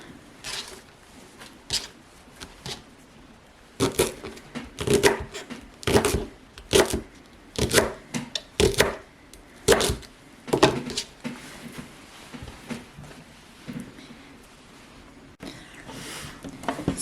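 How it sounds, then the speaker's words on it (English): A knife slices rolled collard greens into thin ribbons on a cutting board, a steady run of crisp, close chopping strokes that starts sparse, quickens into regular rhythmic cuts and then trails off. "Once you get them rolled, you just cut in thin slices"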